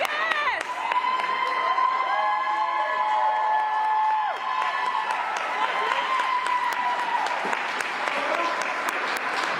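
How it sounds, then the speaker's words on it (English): A wrestling crowd bursts into loud, sustained applause and cheering, with shouts and whistles rising above the steady clapping across the whole stretch. "Listen to all the applause."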